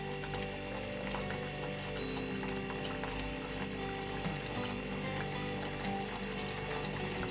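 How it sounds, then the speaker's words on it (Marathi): Water pours into a pan of baby potatoes cooking in masala for Punjabi dum aloo, a steady soft splashing and bubbling sizzle that continues quietly without any talk. "शिजण्यासाठी आपण आता याच्यात थोडंसं पाणी ॲड करूया."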